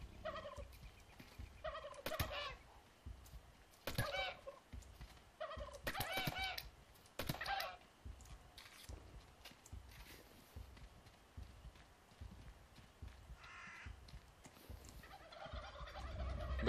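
Turkeys gobble in bursts across the How to Survive 2 game, with repeated clucking calls, scattered thumps and clatter, and a low rumble underneath.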